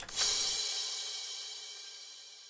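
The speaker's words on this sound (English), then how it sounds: "Crash cymbals" A single crash cymbal hit with a long, washy reverb tail that slowly fades out, bright and sustained, with nothing else playing.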